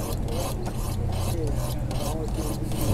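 Knife blade drawn along low-grit Spyderco sharpening rods, a steady dry rasping scrape repeated in quick strokes, close and continuous, with faint speech-like murmur underneath.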